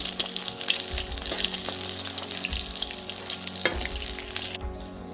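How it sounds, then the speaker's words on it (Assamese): Fish pieces fry in a pan on a home kitchen stove, giving a steady, dense sizzle with bursts of spitting oil, close and loud throughout with no talking. "মাছখিনি ভাজি আছোঁ"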